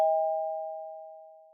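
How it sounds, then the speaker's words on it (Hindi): A doorbell gives a single clear chime that rings out alone and fades slowly over more than a second. "मैंने पहले कभी इस दरवाजे की घंटी नहीं सुनी।"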